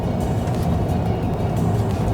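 Range Rover 4.4 TDV8 diesel driving after a transmission flush, heard from inside as a steady, loud low engine and road drone with no pauses.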